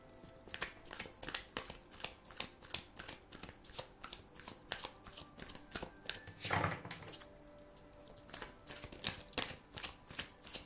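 Tarot cards are shuffled by hand in steady, crisp riffling and flicking bursts, close and continuous throughout, with no one talking.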